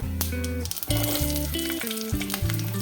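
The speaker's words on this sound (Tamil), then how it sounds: "இப்போ நல்லா பொரிஞ்சதுக்கு அப்புறமா நான் வந்து சின்ன வெங்காயம் சேர்த்துக்கிறேன்" Small onions frying in hot oil with fenugreek and cumin for kovakkai kulambu, a loud continuous crackling sizzle, close, with a steady humming tone running underneath.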